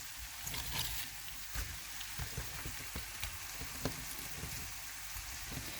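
Cabbage hits a frying pan of sizzling onions, giving a soft, steady crackle and spatter with scattered pops, heard close and fairly faint with no talking.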